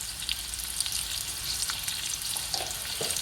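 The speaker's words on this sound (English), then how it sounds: "in here we've got the onions frying off with the curry leaves and half a teaspoon of garlic ginger paste" Onions fry in a pan with curry leaves and garlic ginger paste, a close, dense and steady sizzle with crackles and small pops, with no talking.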